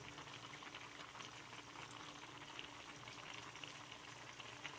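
Rice simmers in a pot on a home stove, a steady soft bubbling and faint sizzle running continuously at low volume.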